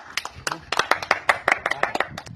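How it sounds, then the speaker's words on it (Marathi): A gathered crowd claps their hands in welcome for a man who rescued a snake, a ragged run of sharp, close claps with some voices murmuring underneath. "टाळ्या वाजवा सगळ्यांनी"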